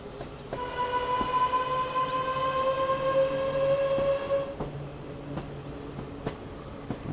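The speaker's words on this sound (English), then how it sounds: "It just takes a bit of time to get over the crossing because it's a 4-coach train." A four-coach train in Train Sim World 5 rolls over a level crossing, its steady engine rumble joined by sustained horn-like tones. It plays alone at moderate volume for several seconds, then fades into lighter mechanical noise.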